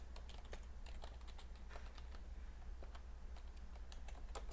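Computer keyboard typing in quick irregular bursts of clicks and taps while code comments are entered for a React state reducer, close and steady under a low constant hum, with no talk.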